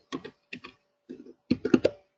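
Someone types an address on a computer keyboard in short bursts of clicking keystrokes, three small clusters then a louder flurry, close and isolated.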